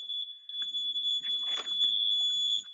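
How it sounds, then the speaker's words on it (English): A loud, steady electronic beeping tone from an alarm at a therapeutic recreation lab door on a college campus, holding on continuously near the listener while faint movement and muffled sounds pass underneath. "Something's beeping at me."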